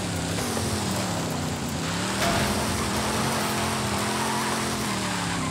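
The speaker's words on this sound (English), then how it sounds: "495 horsepower engine that it comes with" Car engine in Forza Horizon 5 running steadily with a stock 495 horsepower setup, a loud continuous drone that holds an even pitch throughout with no speech over it.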